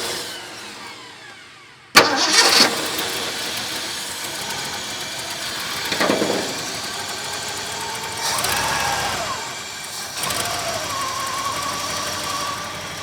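A 1972 Ford Highboy truck engine cranks and catches with a sudden burst, then settles into a steady, fairly quiet idle with a few swells in revs, heard close up with no talking.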